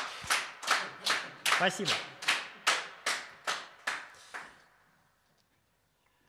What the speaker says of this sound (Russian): Чем меньше аудитория, тем ей труднее так хлопать.